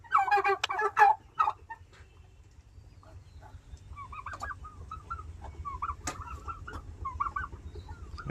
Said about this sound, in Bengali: 150 পিস টার্কি আছে এখানে।